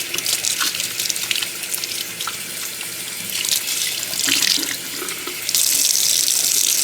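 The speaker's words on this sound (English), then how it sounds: "you can go ahead and wash your hair first" Water runs steadily from a tap during hair washing before red dye is applied, a continuous broadband gush that swells louder near the end, close and with no voices.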